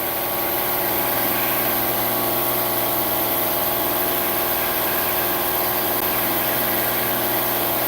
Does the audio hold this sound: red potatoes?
no